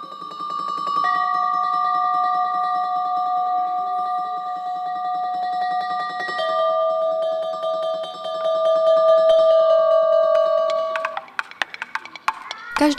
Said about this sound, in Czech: zazvonil zvonec